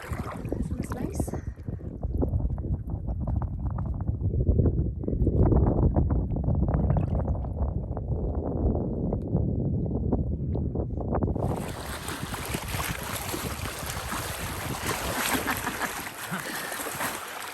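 A small boat moving over Lake Erie in the wind, steady engine and water rumble with heavy wind buffeting the microphone, which turns into a harsher hiss in the last few seconds.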